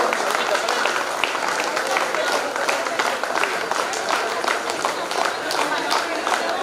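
Applause from a gathering of schoolteachers and students at a high school alumni silver jubilee get-together, heard as steady, dense clapping that runs for the whole span at fairly close range with no pause.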